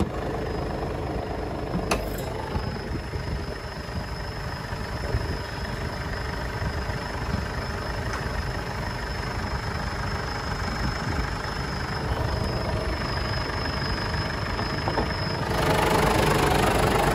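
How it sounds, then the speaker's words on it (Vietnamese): A steady diesel engine of a 2010 Ford Everest automatic SUV idles nearby with a low, continuous rumble and faint knocking, growing slightly louder near the end. "em đang nổ máy mẫu Ford Everest"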